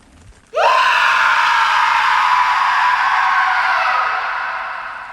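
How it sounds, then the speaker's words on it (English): A person lets out a long, loud, high-pitched scream that starts abruptly and holds steady for several seconds before slowly fading, heard alone and close by. "A scream sounded from behind him"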